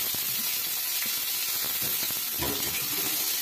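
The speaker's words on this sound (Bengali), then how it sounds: "এবার আমি গাজর, আলু, একটু ওলকপি দিয়ে এগুলি আমি সব সবজিগুলো একসঙ্গে একটু ভেজে নেব" Carrots, potatoes and a little kohlrabi fry together in a pan, giving a steady, dense sizzle with occasional clatter from stirring.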